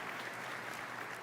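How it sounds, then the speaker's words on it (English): A short burst of dense, steady applause from an audience at a game-engine industry presentation, with many hands clapping at once at a constant level. "I would like everyone to give a round of applause to Corey and Matt"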